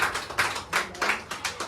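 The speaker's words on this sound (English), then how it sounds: "Big applause for him." Applause during a public speaking training session, heard as separate bursts of tapping claps, roughly five clusters in under two seconds, fairly close and moderate in level.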